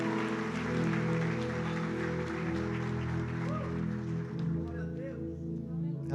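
A church congregation applauds during a worship service, steady broad clapping spread across the room beneath sustained music and a leader's voice.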